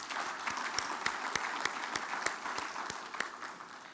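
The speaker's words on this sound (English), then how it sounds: "can we give him another round of applause" A crowd claps steadily for a few seconds, a dense, even patter of applause with some sharper individual claps standing out.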